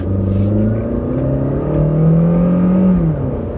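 A small car engine revs up and accelerates, its rising drone loud and close, with the pitch climbing and then shifting.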